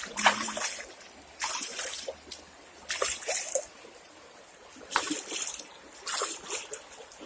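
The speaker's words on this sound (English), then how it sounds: "so this is the Plantain Garden River" The Plantain Garden River in St Thomas, Jamaica, splashing and trickling close by in uneven bursts of bright watery spatter separated by quieter gaps, with a soft background murmur.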